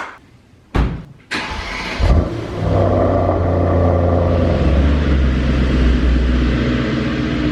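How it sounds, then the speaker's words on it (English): A Mercedes E63 S AMG with straight pipes cold starts, cranking with a couple of sharp starter bursts, then catches and settles into a loud, steady idle rumble. "It's cold start time."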